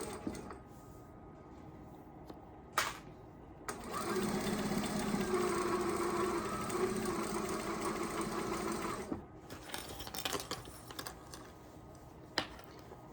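A fast domestic sewing machine stitches a dining scarf in one steady, loud whirring run of several seconds, framed by short clicks and handling noises before and after, with no talking.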